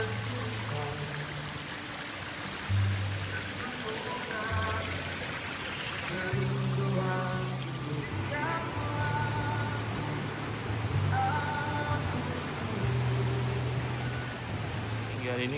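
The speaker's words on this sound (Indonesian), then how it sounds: "air terjun. Itu dia. Mengalir." Water rushes steadily from a small waterfall at Klurak Eco Park, a constant near hiss of flow running beneath intermittent talking voices.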